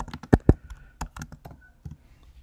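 Keys on a computer keyboard clatter in quick, irregular bursts with a few sharper, louder strokes, close by and with no talk over them, while alternate text is entered for an image on a course page.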